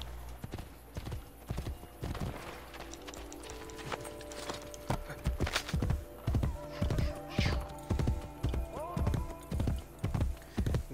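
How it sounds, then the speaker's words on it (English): Horse hooves clip-clopping in Assassin's Creed Brotherhood, starting as scattered steps and settling into a steady trotting rhythm, with a neigh partway through, close and clear over faint game ambience. "Let's call a horse"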